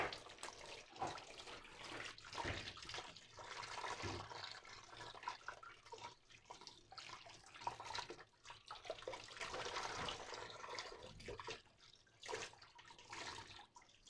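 Peeled cassava is washed by hand in a basin of water, giving soft continuous sloshing and splashing up close with irregular swells, quiet overall.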